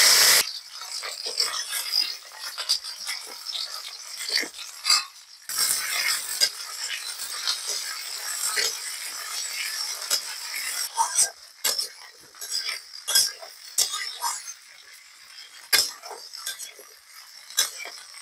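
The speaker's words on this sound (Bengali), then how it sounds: "তেল গরম হয়ে আসছে, এখন ঢেঁড়স গুলো দিয়ে দেব।" Okra hits hot oil in a wok and fries with a steady, bright sizzle, while metal utensils clink and scrape against the pan at irregular intervals.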